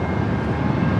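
A Delta Airlines Boeing 737-800 arriving at LAX from SFO makes a steady, dense jet roar that fills the whole moment without a break.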